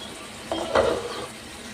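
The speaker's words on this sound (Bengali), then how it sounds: "এবার আলুটাকে ভালো করে ভেজে নিচ্ছি, আলুটাকে ভালো করে লাল করে ভেজে নেব কড়া করে।" Potato pieces fry in hot oil with cumin in a pan, heard as a brief stirring scrape over a soft sizzle, close and fairly quiet.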